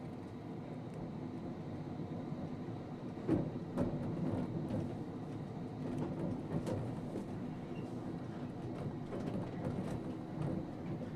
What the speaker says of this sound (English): we're staying on board as Derek takes the train into the reversing sidings.